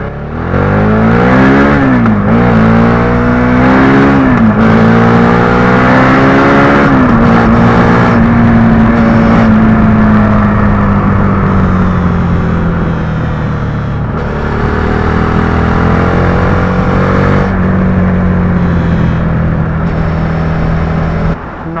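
A Suzuki SV650 motorcycle engine revs up loud and close through several gears, its pitch climbing and then dropping at each shift before holding a steady drone. There is no talk, only the engine throughout.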